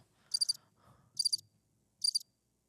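Crickets from a played recording chirp in three short, bright bursts spaced about a second apart, close and clean against near silence, with a faint low murmur between the first two.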